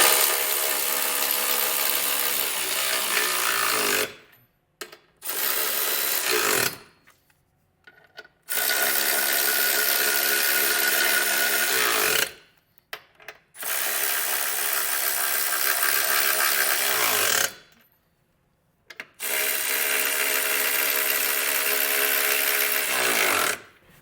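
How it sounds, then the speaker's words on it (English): A power tool snugs down Curt Class III trailer hitch bolts on a 2025 Genesis GV80, running in loud sustained bursts of several seconds each with short pauses between them, close up and with no talking. "With all of our hardware in place, we'll come back through and just snug everything down."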